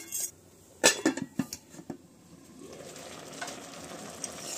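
Tomatoes simmer down in a pan for homemade tomato sauce, opening with a burst of clattering knocks as they are stirred, then settling into a soft, steady bubbling sizzle.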